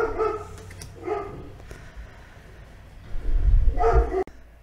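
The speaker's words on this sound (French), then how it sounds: "j'avais mis la vidéo en pause parce que le chien faisait du bruit" A dog indoors barks in several short, spaced bursts, fairly near, with some low rumbling and handling noise between the barks.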